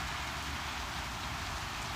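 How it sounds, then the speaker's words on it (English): Heavy rain lashing down in strong wind, a dense continuous hiss and patter with a low rumbling roar underneath, steady and unbroken throughout. "it's windy and really rainy now"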